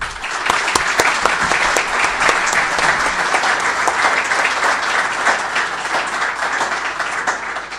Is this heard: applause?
yes